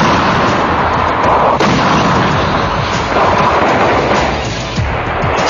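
A D-30 howitzer fires in the open, a dense rumbling blast and rolling roar filling the whole stretch, loud and sustained, with a sharper report partway through.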